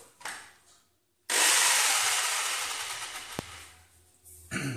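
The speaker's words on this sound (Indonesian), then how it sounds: "tapi kalau mau lebih cepat kita menggunakan jigsaw" A jigsaw cuts material for a homemade hydroponic NFT system. After a brief pause, one steady, harsh buzzing cut lasts about three seconds, with a sharp click near its end, heard close and fairly loud.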